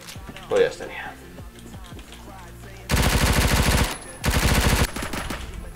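Rapid automatic gunfire from an MP5/10 in the Roblox shooter Phantom Forces comes in two loud bursts, a longer one followed by a shorter one, after quieter game sounds and some talking.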